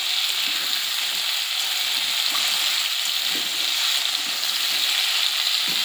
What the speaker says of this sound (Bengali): তেল গরম হয়ে গেছে, এবার সেই কেটে রাখা চৌকো আলুগুলো ওর মধ্যে দিয়ে দেব। আলুটা একটু হালকা লাল লাল করে আমি ভেজে নিচ্ছি